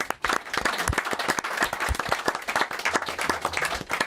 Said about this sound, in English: a big round of applause for our foundation